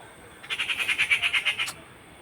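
A kanakkankuruvi bird gives a quick rhythmic series of about a dozen squawking notes over just over a second, fairly loud and close, with no voices over it.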